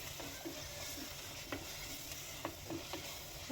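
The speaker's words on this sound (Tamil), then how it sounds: "வதக்குங்க" Chicken curry ingredients with ground cumin masala sauté in a pan, a soft steady sizzle broken by occasional light scrapes of a spoon stirring, fairly quiet, with no voices.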